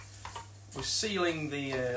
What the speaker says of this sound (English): So that butter, can you hear it sizzling?